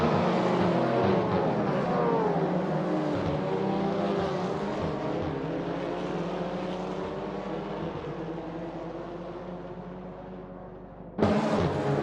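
Race cars in an Assetto Corsa championship race at Anglesey Circuit, a loud sustained roar of many engines revving together at the start, holding steady for several seconds, then cut off abruptly by a sudden new burst.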